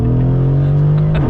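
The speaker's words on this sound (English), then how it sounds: "It's very interesting to accelerate the G-Class" A 2016 Mercedes-Benz G63 AMG with a 5.5-litre biturbo V8 drones loudly and steadily under acceleration, heard close up from inside the cabin with a deep, even engine tone.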